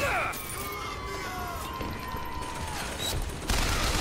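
Bioshock Infinite plays out with a burst of gunfire and crashing impacts in a chaotic fight, loud and continuous. Whistling tones sweep over it, and the shooting thickens again at the end.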